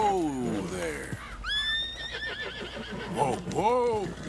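A horse in Red Dead Redemption 2 neighs and whinnies several times in clear, loud bursts, with hoof clip-clop and someone talking over it.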